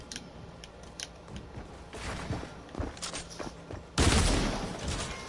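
Gunfire rings out in a video game: a few faint clicks and rattles give way to a sharp, loud shot near the end, with its echo trailing away.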